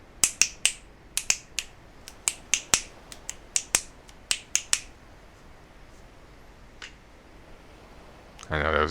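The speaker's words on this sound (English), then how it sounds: "there was a cheering on of finger clicking" Sharp finger snaps in Final Fantasy XIV ring out in a quick irregular run of about twenty crisp clicks, then thin out to a few stragglers before a burst of noise at the end.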